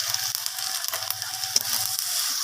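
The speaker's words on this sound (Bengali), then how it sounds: "তো সমস্ত কিছু মশলা আমি টমেটোর সাথে একটু ভেজে নিচ্ছি।" Spices fry with tomato in a pan, giving a steady close sizzle with light crackle and a few soft clicks of stirring, continuous and moderately loud.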